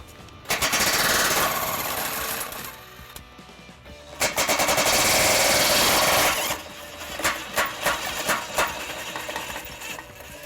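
A power tool removes bolts under a 2011 Dodge Grand Caravan, running in loud rattling bursts up close, two long runs with a pause between, then shorter pulses.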